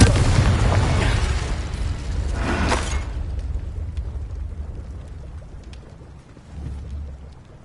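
A fiery spell blast in Hogwarts Legacy, a loud broadband burst fading over about three seconds, with a second crackling flare near the middle, then a low rumbling tail and quieter ambience.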